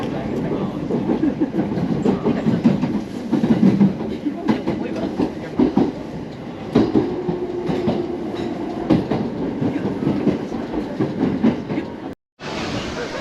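A local train bound for Abiko in Chiba rolls along the rails with a steady, close rumble and rhythmic clatter that carries on throughout, then cuts out abruptly for a moment near the end.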